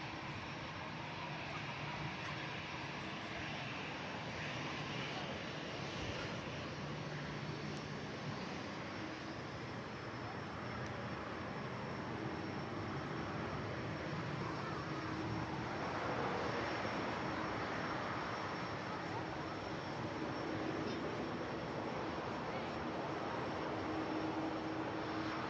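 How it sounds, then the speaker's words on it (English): A Virgin Atlantic Airbus A350 departs Manchester Airport, a faint, distant, steady engine roar blending into a broad rushing wash that builds slightly through the middle and persists throughout. "Virgin Atlantic 350. Wendy Darling on the way out to Las Vegas as flight 85."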